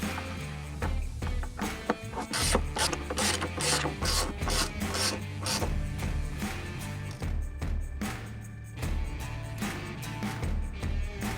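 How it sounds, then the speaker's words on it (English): Button head fasteners being run down on a motorcycle case bracket, giving steady close ratcheting and rubbing clicks with bursts of rapid turning, continuous and fairly loud with no talk. "now run down all of your button head fasteners"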